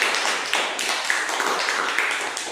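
Children clap their hands in applause during a group concentration game, a steady run of quick, fairly loud claps filling the whole moment with no talk over it.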